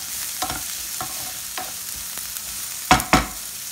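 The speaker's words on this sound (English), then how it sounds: "and red capsicum. Let them fry. Our flame should be high." Red capsicum frying in a pan over a high flame, a soft steady sizzle with occasional scraping stir strokes, the last two louder and close.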